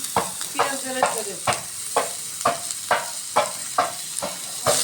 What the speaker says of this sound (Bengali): আলু ঘাটির জন্য তেলানি করে নেওয়া হচ্ছে।